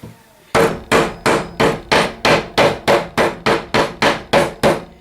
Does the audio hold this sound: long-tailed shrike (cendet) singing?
no